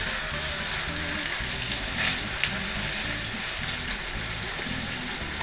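Steak frying in hot butter and olive oil in a pan: a steady, close, dense sizzle that continues without a break, with one brief louder crackle partway through.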